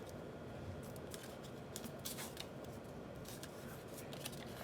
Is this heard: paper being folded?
yes